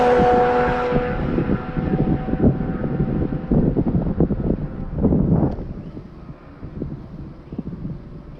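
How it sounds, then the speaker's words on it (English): Porsche Boxster race car passing on the Summit Point track in the morning, loud at first, then fading into the distance under heavy wind noise. "here comes the Boxster"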